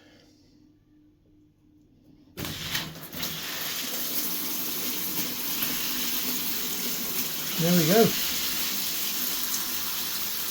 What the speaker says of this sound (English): One perfectly working shower.